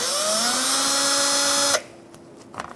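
A power drill or driver whirs steadily with a rising whine while backing screws out of the front inner fender liner of a 2014-2019 Kia Soul, then cuts off, followed by light clicks and handling noises.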